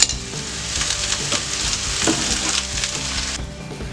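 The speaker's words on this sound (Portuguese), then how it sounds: "Eu vou fritar a cebola por 5 minutos, só para dar uma dourada nela." Sliced onions frying in a pan for a few minutes to brown, with a steady close sizzle broken by crackles and the scrape of stirring.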